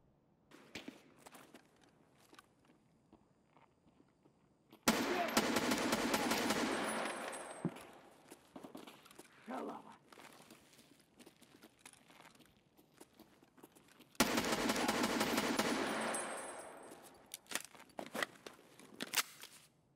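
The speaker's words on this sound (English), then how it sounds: "And there's so much gunfire." Bursts of rapid gunfire erupt in two long loud volleys, with scattered shots and clatter in between, in an intense Escape From Tarkov video game firefight.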